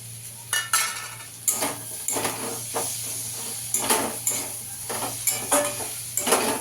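Prawns frying in a pan over low gas, a soft steady sizzle under repeated scraping and clinking strokes of a utensil against the metal, close and fairly quiet with no talking.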